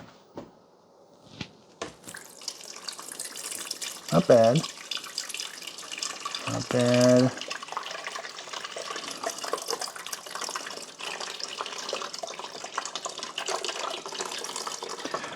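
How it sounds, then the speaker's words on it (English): Water pours from a carafe into the reservoir of a Cuisinart 12-cup Grind & Brew Plus coffee center, a steady splashing fill heard under nearby talk, with a couple of brief clinks along the way. "So we got to pour the water into this reservoir now."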